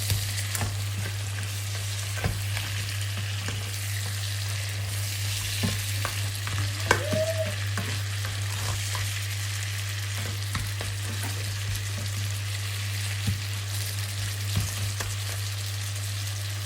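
Spicy garlic crawfish and prawns sizzle steadily in a pan, a constant frying hiss with occasional scrapes and knocks of stirring, no voices.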